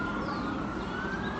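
A loud siren wails continuously, its steady tone sustained over background rumble.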